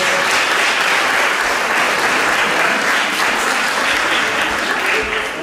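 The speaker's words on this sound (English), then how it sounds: "I'd like you all to give Sharon a round of applause" Sustained applause from an audience at an evening community launch event in Knysna, South Africa, a dense steady clapping that stays loud and even throughout before easing slightly at the end.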